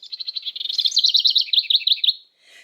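Electronic recording of a bird call played from a button on a children's bird sound book: a rapid series of bright, high chirps rising into a quick warbling trill, clear and close, then a brief faint burst at the end.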